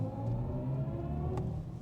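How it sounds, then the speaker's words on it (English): A BMW i7 luxury electric sedan driving in sport mode gives off a steady, low, aggressive-sounding drive tone with a rumbling whir. It is heard from inside the cabin at moderate level, with no talking. "Listen to that, it sounds so mean."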